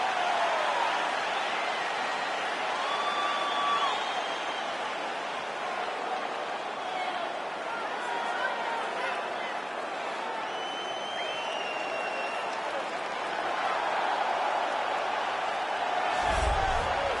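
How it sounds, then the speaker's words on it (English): Crowd in the UFC 4 video game rising as a fighter makes his walk to the cage, a broad, steady roar and cheer that stays constant throughout, with commentators' voices faint over the top. "Well, you hear the pop from the crowd, DC, as Nate Diaz gets set to make this walk"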